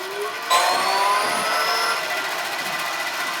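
Bandsaw cutting through plywood: a steady high whine and hiss that swells sharply as the blade bites in, then holds at an even, close drone with no talk.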